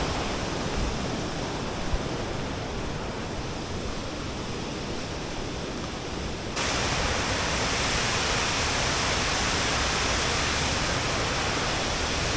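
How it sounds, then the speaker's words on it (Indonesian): Steady, loud roar of the Penawangan Srunggo waterfall, heard from below the falls, a dense broadband rush of water that grows louder partway through and runs unbroken throughout. "sekarang kita sudah sampai ya di bawahnya air terjun Penawangan Serunggo"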